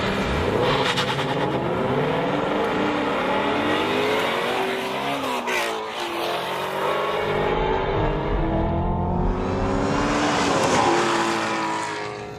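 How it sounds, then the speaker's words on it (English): A Chevrolet Camaro ZL1 and a Ford Mustang GT350 launch side by side in a drag race, their engines roaring loudly and climbing through repeated upshifts, with a tire squeal and a surge of revs near the end. "This is where the ZL1's power advantage really pays off. Drag race, go!"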